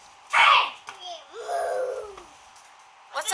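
A small child imitates a cow with a drawn-out, wavering moo, preceded by a short breathy burst and followed by a faint sound at the end, close and fairly quiet.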